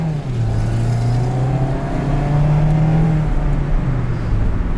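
A 2021 Mazda MX-5 Miata Grand Touring automatic with 181 horsepower accelerates hard, its engine droning loud and close. The pitch climbs through the revs, dips at a shift and climbs again.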